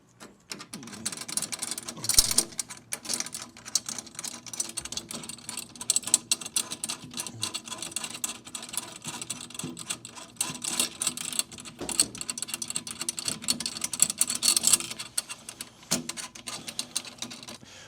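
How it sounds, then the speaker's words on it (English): Snare drum tension rods being loosened and taken out with a drum key, a busy stream of small metallic clicks, ratcheting turns and light rattles, close and steady throughout. "So just start by taking off all of the tension rods."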